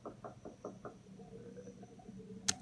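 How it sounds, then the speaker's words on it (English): Several quick muffled knocks on a door, five in an even rhythm, faint and distant against a quiet background, then a sharp click. "you can hear knocking on the door in the background"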